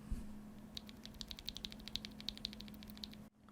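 Lubed Akko V3 Cream Yellow mechanical keyboard switches typed in a steady run of crisp, close clicks and muted thocks over a low background hum, ending abruptly.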